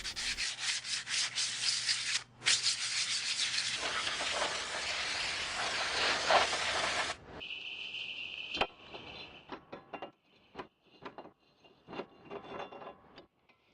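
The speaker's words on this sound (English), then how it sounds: "this would be a good time to sand the surface if you have any glazing" Sandpaper rubbing over the glazed surface of a brake rotor during a Suzuki Forenza/Reno brake job, a loud, steady scratchy rasp for about seven seconds, then quieter intermittent scrapes and handling noises.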